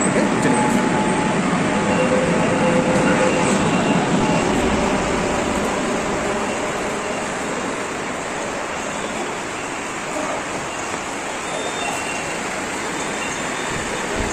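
A metro train at Sealdah metro station rumbles along in a broad, steady roar with faint squealing tones, loudest early on and easing slightly as it continues, with no clear talk over it.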